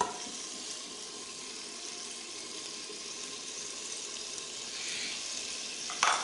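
Turmeric and chopped green chilies fry in a pan for beef kaleji masala, giving a steady, fairly quiet bright hiss that runs throughout with no talk.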